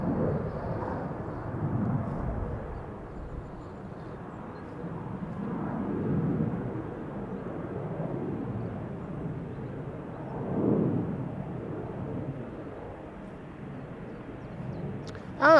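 Qatar Airways Airbus A350 jet at Amsterdam Schiphol Airport, a distant low rumbling roar that swells and recedes in broad waves, heard faintly from afar with wind noise.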